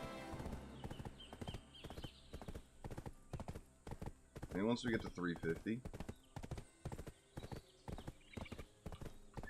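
Horse hooves clip-clop steadily in Black Desert Online as the mount is ridden, with regular close hoofbeats throughout, a brief neigh in the middle, and someone talking over them.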